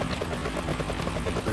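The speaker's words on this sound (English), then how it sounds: "Is that a chopper I just heard?" A helicopter's rotor chops in a steady, pulsing thrum, close and continuous, set in a scene from the game Metal Gear Solid 2: Sons of Liberty with no talk.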